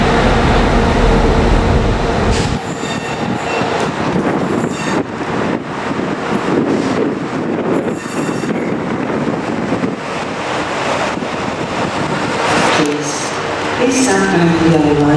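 Train pulling through a railway station in Northern Ireland, a loud, close rumble with heavy wind buffeting the microphone, steady for most of the stretch with a brighter squeal near the end.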